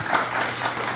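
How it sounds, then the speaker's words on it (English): A short burst of dense clapping from a church congregation at a Sunday morning worship service, steady and moderately loud. "let's please give Brother Sembly a warm round of applause for his lesson today"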